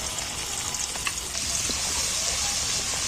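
Stone-ground masala paste with turmeric frying in plenty of hot mustard oil for a fish curry, a loud, close, continuous sizzle that swells after the first second and holds steady, with no talking.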